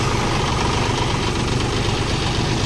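A tractor engine runs at idle, a close, loud, rough low chugging with a steady knocking rhythm and vibration that holds evenly throughout.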